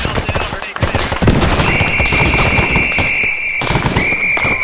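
Grenade blasts and gunfire in Arma 3's SOG Prairie Fire jungle combat, grenades lobbed over a log: dense, loud crackling bursts and booms run throughout, with a steady high whine layered over the din.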